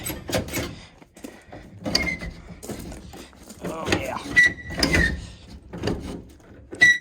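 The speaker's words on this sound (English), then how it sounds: "Make sure that door needs to be oiled a wee bit." A stiff door on a 1968 International Harvester 1300C truck creaks and squeals in short, high grinding bursts as it is worked back and forth, close by, with someone speaking briefly between movements.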